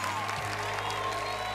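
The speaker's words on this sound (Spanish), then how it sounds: "¡Fuerte aplauso para el Team Gracie!" Brief burst of studio audience applause on a televised singing competition for kids, a dense wash of clapping over sustained musical tones.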